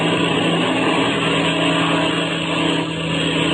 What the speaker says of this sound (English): the famous pilot and Chuck Ramsey climbed into the cockpits of the Black Two-Seater and warmed up the engine. Then they start their takeoff